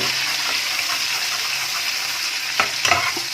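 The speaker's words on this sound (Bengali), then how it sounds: "এবার এগুলোকে একসাথে ভালো করে নাড়বো যাতে ধনে পাতার একটা কাঁচা গন্ধ এটা যাতে চলে যায়" Coriander stems and leaves being stirred as they fry in a pan, a dense, even sizzle with a few scraping stir strokes near the end, close up, with no voices.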